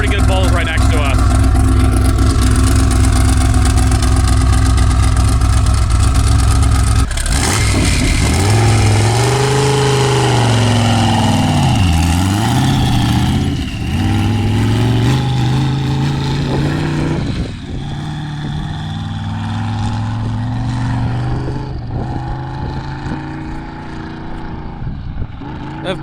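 Twin-turbo V8 sandrail engine roaring through sand dune bowls at Glamis, loud and continuous with surging revs and pitch swings as it climbs and drops, a voice talking over it at times.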